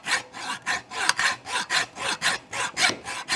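A dull hacksaw blade is pushed and pulled through a cut, giving a steady train of about eleven raspy strokes at an even rhythm, close and clear, with no voices.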